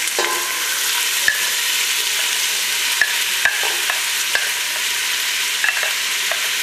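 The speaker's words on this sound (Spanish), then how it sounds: "Agregamos la cebolla." Onion sizzles steadily in a hot pan, a broad hiss with occasional sharp clicks of a utensil stirring against the pan; no voices.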